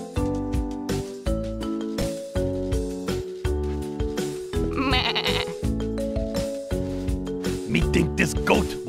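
Bleating goats in a Sesame Street Wii video game repeat several times over busy game music, with a cartoon voice speaking throughout.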